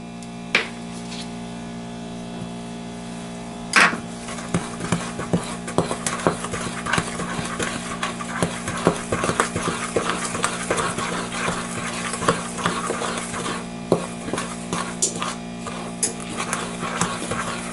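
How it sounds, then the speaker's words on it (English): Butter being cut with a steak knife into cornmeal biscuit dough and stirred in a bowl, giving irregular scraping and tapping strokes with a sharp knock near the start, steady and close over a low background hum. "I'm going to cut off like a tablespoon of the butter, then stir a little bit more"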